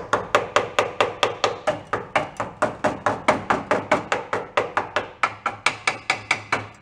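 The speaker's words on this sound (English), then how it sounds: "Let's go just kind of give her a couple knocks." A small hammer raps on the transmission of a VW bus, about thirty quick, evenly spaced metallic knocks, close and sharp, with no talking.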